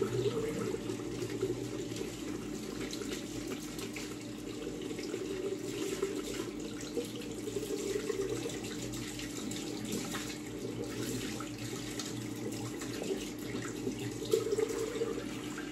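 Tap water runs in a steady, even stream into a sink while shaving tools are rinsed, continuous and moderately close with faint clinks, no talking.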